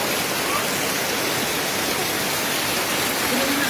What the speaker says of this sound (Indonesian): Hujan es, itu hujan es.